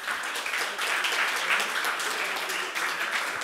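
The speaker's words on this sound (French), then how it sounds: "que je vous demande d'applaudir" An audience applauding at a recruitment challenge final, dense steady clapping throughout that sounds close and fairly loud, with no voices over it.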